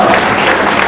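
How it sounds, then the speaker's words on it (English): A brief burst of clapping from a group, dense and loud, lasting under a second. "Let's give her a clap."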